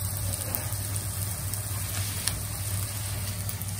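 Tofu hamburger patties fry over medium heat in a pan, a steady close sizzle with a low hum beneath it, no one talking.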